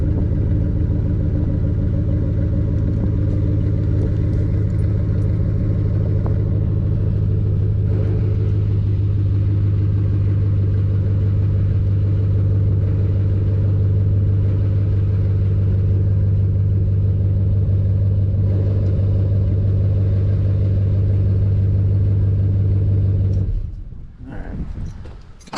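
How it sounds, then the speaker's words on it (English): A Chevrolet Silverado pickup with an MBRP exhaust idles after a cold start, a loud, steady deep rumble droning evenly for over twenty seconds before cutting off abruptly near the end. "Cold start, nothing like it."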